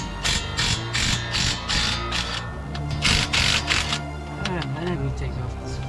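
A socket wrench ratchets a 22 mm socket on a Toyota Tacoma's suspension cam bolt, with repeated bursts of clicking up close, while people talk throughout.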